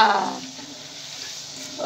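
Sweet potato pantua dumplings fry in hot oil over a high flame, a brief louder splash of sizzle at first, then a soft steady crackling hiss.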